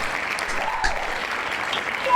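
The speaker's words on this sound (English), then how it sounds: "Hand claps for 1K." Audience clapping and cheering to welcome a hip hop guest on a live show, steady applause sustained throughout at fairly close range.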